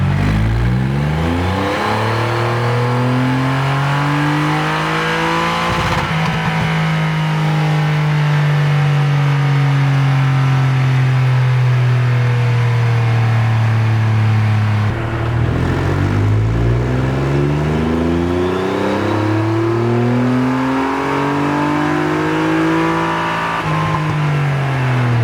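A Triumph Rocket 3 2458 cc motorcycle revs hard on a dyno, the loud engine climbing in long sweeps, dropping back and climbing again in two close, continuous pulls.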